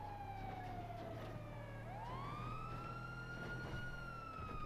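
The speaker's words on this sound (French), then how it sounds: "Ouais, il y a encore des sirènes." Emergency vehicle sirens wail in GTA V, a loud, steady siren tone sweeping down and then back up over a constant road rumble, with no talk.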